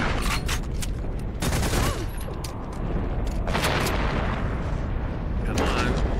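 Shotgun blasts ring out in the video game Velvet Assassin, a series of sharp loud booms with mechanical clatter between shots over steady background game noise.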